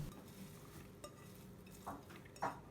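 Soft stirring and scraping of a cheese and chopped parsley filling in a bowl, with a couple of brief wet clicks near the end, quiet and close.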